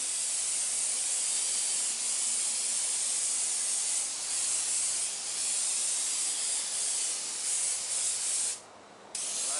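A continuous, even hiss of an airbrush spraying black paint, close and steady, with a brief dip near the end before it resumes.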